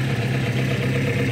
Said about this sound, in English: Hey, I like this exhaust too.